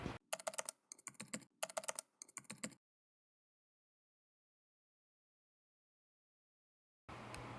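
Quick bursts of typing on a computer keyboard give clustered clicky keystrokes in four short runs, close and crisp, then silence before a brief noise at the end.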